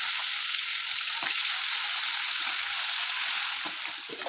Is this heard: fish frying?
yes